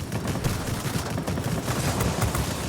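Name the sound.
aircraft cannon fire in the video game World of Warplanes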